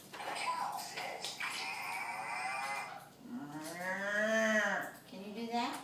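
A toy plays a recorded cow moo, long and drawn out with a rising, wavering pitch, rather loud and close, over a steady background hum.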